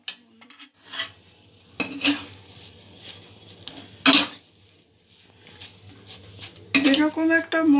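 Dough for Dudh Puli Pitha stirred in a pan with a utensil: intermittent metallic scrapes and clinks against the pan at close range, with a louder scraping stretch at the end while someone speaks.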